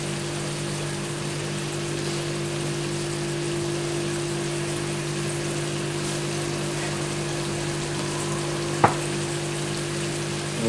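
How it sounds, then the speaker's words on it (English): Vinegar reduces in a pan on the heat with a constant close sizzle and fizz, steady throughout, broken once by a single sharp click. "We'll just keep that on the heat. So that vinegar reduces right down."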